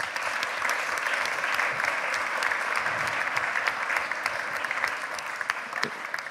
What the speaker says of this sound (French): Je vous demande d'applaudir tous les membres du panel.